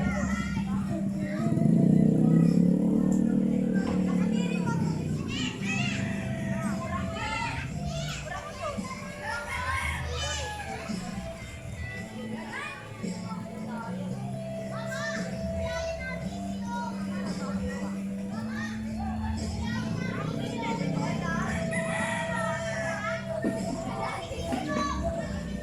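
Many children shout and play together outdoors in a flooded compound, a continuous lively chatter with occasional louder cries rising above the crowd.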